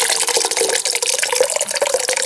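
Blackberry wine pours steadily through muslin into a bucket, a continuous splashing, trickling liquid stream close by with no talk over it.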